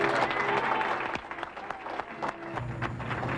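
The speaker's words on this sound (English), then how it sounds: "a big round of applause for the gentleman putting the rink and the ice together in Shawnee" Brief applause from a gathered audience welcoming the man building an ice rink in Shawnee, a short burst of clapping with some voices and background sound mixed in.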